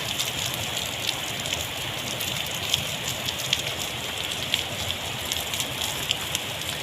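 Steady monsoon downpour during Typhoon Goring in a flood-prone area of the Philippines, a dense continuous hiss of rain on surfaces with scattered louder drops, no voices.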